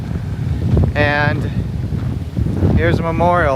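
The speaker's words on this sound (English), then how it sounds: "I'm sorry for the wind, guys. It's really windy out here." Strong wind buffets the microphone outdoors in open countryside down a dirt road, a loud, constant low roar under a man's speech throughout.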